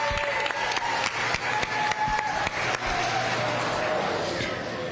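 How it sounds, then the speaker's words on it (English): Applause from an audience at a county youth fair livestock show, steady scattered clapping throughout, with a voice heard over it. "Give them a nice round of applause."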